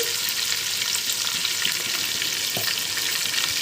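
Chopped onions, tomatoes and curry leaves fry steadily in a hot pan for a small-fish curry, giving a continuous close sizzle with faint stirring scrapes and no voices.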